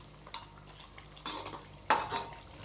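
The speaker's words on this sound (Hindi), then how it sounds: "तो स्पाइसेस को भी हम 1 से 2 मिनट के लिए अच्छी तरह भून लेंगे, ताकि ऑयल के साथ इनकी भी अच्छी तरह भुनाई हो जाए" Spices roasting in oil in a pot for beef karahi, heard as a few sharp metallic scrapes and clinks of a utensil against the pot over a faint background, quiet and sparse.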